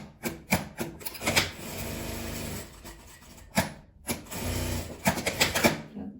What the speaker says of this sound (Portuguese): vou passar a costura fechando e deixando uma pequena abertura pra gente desvirar